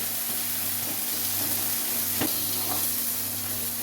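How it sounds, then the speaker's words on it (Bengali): Turmeric and chilli powder frying in a pan give a steady, moderately loud sizzle and hiss, with a few brief scraping knocks as the spices are stirred; no voices are heard. "এরপর আমি হলুদ গুঁড়ো দিয়ে দিলাম গুঁড়ো লঙ্কা দিয়ে দিলাম এবার ভালো করে নাড়ি ছাড়িয়ে নিতে হবে"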